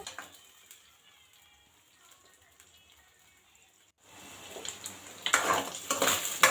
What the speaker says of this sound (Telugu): కొంచెం కొంచెం కదిపించుకుంటూ వేగనివ్వండి